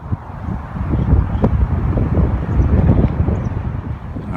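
Gusty wind buffets the microphone outdoors at a trout fishing spot on a lake, a steady low rumble swelling and easing throughout with no talk.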